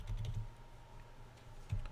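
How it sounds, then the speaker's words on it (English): Cards shuffled for the Arkham Horror card game, giving quick papery riffling bursts at the start and again near the end, with a softer patter in between and no voices. "Lots of shuffling going on."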